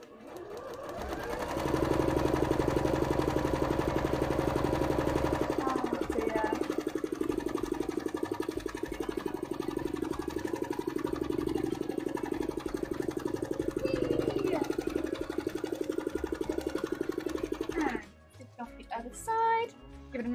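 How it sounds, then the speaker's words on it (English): A sewing machine stitches long continuous seams on layers for a hoop skirt cosplay costume, giving a close, steady rapid whir that runs unbroken for most of the time before stopping. "I'll just be here, sewing very long lines of stitching into these."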